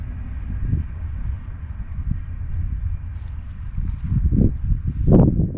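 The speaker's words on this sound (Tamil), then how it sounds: "ட்ரெயின் போகுது வருங்க, திருப்பூர்" A train passing on the Tiruppur to Salem rail line outdoors, heard as a steady low rumble that swells with heavier bursts toward the end, with no voices over it.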